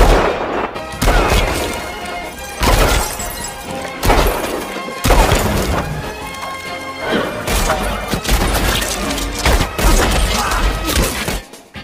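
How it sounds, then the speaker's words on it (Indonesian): Gunshots from the film Django Unchained ring out as sharp, loud repeated cracks at irregular intervals, mixed with a dense film soundtrack of music and effects. "Dr. King juga melatih Django menembak."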